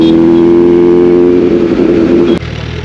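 A brand-new 2023 Suzuki Hayabusa superbike with a loud exhaust runs close by with a steady, throaty engine note. The sound cuts sharply and drops to a lower rumble near the end. No one speaks.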